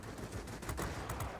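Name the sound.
20mm cannon fire from a fighter plane in video game World of Warplanes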